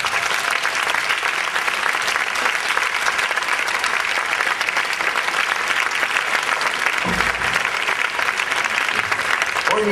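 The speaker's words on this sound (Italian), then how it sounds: "Mi apparve un giorno Federico II e mi disse: fai fare un applauso a questa gente" Sustained, loud concert applause from an audience, steady and dense throughout with no pauses, clapping from many hands filling the space at close range.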